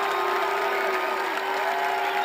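A stadium crowd at a high school football game keeps up a loud, continuous roar and murmur, with no distinct applause bursts, from a packed stand.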